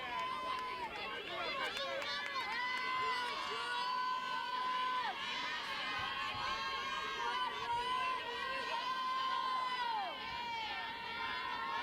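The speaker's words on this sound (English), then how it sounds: "It's pretty cool hearing the crowds go back and forth, cheering for their team." A crowd at a high school softball game keeps up a steady din of cheering and chatter, with children's shouts rising over it. The noise carries continuously throughout the clip, and an announcer talks over it.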